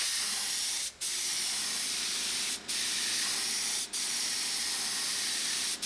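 A paint spray gun hisses continuously while applying candy apple paint, a loud, close, steady spray broken by three or four brief pauses, with no voices.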